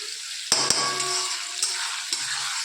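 Spices and coriander roasting in a pan, a steady close sizzle with a couple of sharp spoon knocks against the pan and light stirring scrapes.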